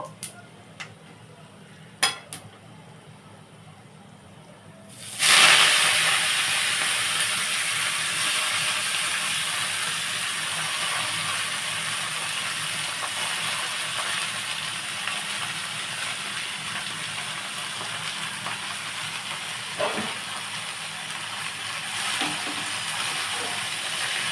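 Spices hit hot oil for tempering with a sudden loud sizzle after a few light taps, then a sustained bright hiss that slowly settles, with a faint clink partway through.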